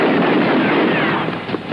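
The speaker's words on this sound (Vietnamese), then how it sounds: "dám bắn luôn cả tôi hả?" Gunfire in a 2018 Hong Kong martial arts action film, a dense burst of loud blasts and crackling reports, near and sustained with no clear gaps, fading slightly at the end.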